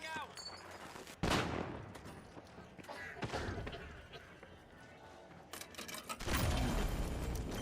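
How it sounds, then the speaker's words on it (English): A flashbang goes off in the shooter game The Finals amid bursts of gunfire, with a sharp loud blast early and another heavy burst near the end, while a person talks over the action. "Flashbang out."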